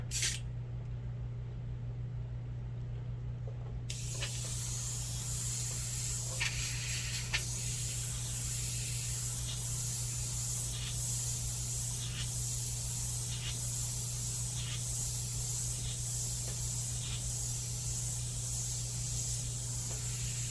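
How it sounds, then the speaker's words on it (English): Steady hiss of an aerosol spray paint can spraying a coat over paint for a long stretch, with a few brief pauses and clicks, heard up close over a low background hum. "if I take this and I spray this on top"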